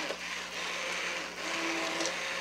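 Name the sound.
immersion blender pureeing mushroom bisque soup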